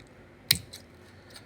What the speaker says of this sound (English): the way you cut the chain is you can actually use a pair of scissors